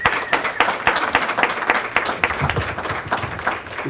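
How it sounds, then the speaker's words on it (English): An audience applauds students at an educator signing day ceremony, with steady, dense clapping that runs the whole time at a moderate level and no talking over it. "Let's give these students another round of applause."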